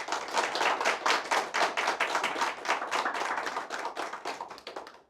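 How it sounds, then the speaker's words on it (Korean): Dense, steady applause from an audience fills the room as a debate between candidates for president of the Incheon social workers' association opens, with many hands clapping continuously throughout before tapering off at the end. "지금부터 여러분들의 박수와 함께 토론회를 시작하도록 하겠습니다"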